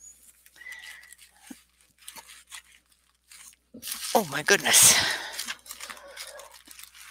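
A package sealed in a plastic bag is torn open close by, producing a loud burst of ripping and crinkling plastic after quieter handling rustles, with a person talking around it.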